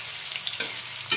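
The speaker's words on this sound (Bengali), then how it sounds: "দেখুন আমার পনিরগুলো সব ভাজা হয়ে গেছে" Pieces of paneer fry in oil in a pan, a loud, close, continuous crackling hiss with small spitting pops across a brief moment and no voices.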